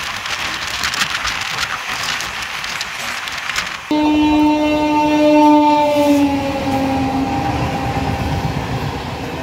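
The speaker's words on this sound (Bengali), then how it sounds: "এবার সামনে থেকে আসছে 12363 হলদিবাড়ি সুপারফাস্ট এক্সপ্রেস।" Haldibari Superfast Express (12363) passenger train passing close by, a loud steady rumble of rolling wagons joined by a sustained horn blast partway through.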